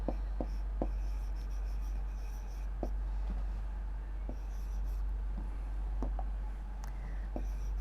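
Pen writing out a final maths answer on paper, with soft scratchy strokes and several sharp little taps at irregular intervals over a low steady hum, close and quiet with no talk.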